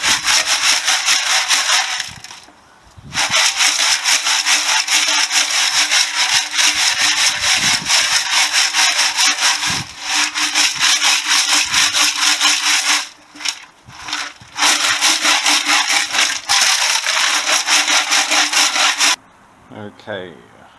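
Motorcycle fuel tank from a Honda CB125S packed with 1.5 kilos of screws and nuts, shaken hard to knock off rust: a loud, continuous rattling metallic wash with brief pauses near the start, midway and at the end.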